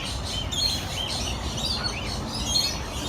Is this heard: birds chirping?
yes